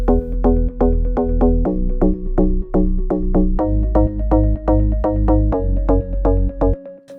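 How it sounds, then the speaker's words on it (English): Layered synth bass with an added organ bass for a dance remix drop, a steady, loud run of punchy repeated notes in a driving rhythm, full low end throughout, stopping abruptly near the end. "And let me hear that with the organ bass."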